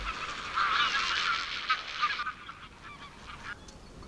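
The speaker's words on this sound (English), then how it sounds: "There are two species of flamingo here, the greater flamingo and the lesser flamingo." Flamingos call in a loud, dense honking chorus at a lake in the Little Rann sanctuary in India, the clamour thinning after the first couple of seconds.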